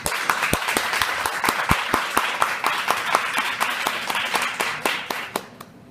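An audience at a poetry reading applauds with a steady patter of clapping hands that holds evenly, then tapers off at the end.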